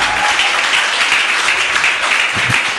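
Church congregation applauding in a steady, continuous wash of clapping that fills the whole moment, loud and dense with no voices standing out.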